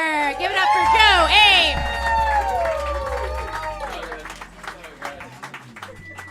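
A comedy club audience applauds a comedian, loud whoops and cheering voices rising over clapping before the noise gradually thins out.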